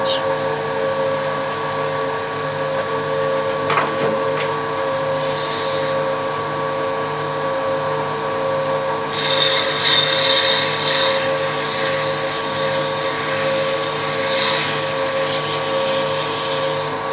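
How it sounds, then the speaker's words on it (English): A wooden finial spinning on a woodturning lathe while being shaped and sanded, with a constant motor hum and a loud, hissing rasp of abrasive against the turning wood in the second half. "I'm going to shape and sand this until I'm happy with this shape"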